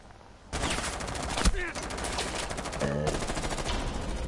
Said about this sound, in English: I can't hear you over the sound of the bullets